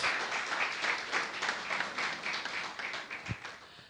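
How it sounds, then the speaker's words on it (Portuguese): A church congregation claps in rhythmic unison during a worship service, the beats regular and fairly close, with a heavier thump near the end. "Você pode aplaudir a Jesus mais uma vez?"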